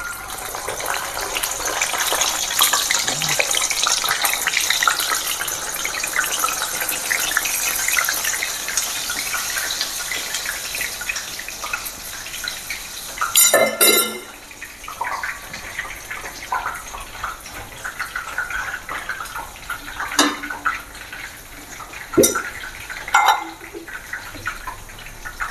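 Tengol dough, pressed straight into hot oil in a pan, deep fries with a steady, loud hissing bubble that runs throughout, broken by a few brief sharp knocks and clatters.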